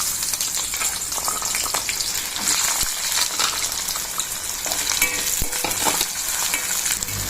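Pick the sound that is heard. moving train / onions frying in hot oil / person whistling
onions frying in hot oil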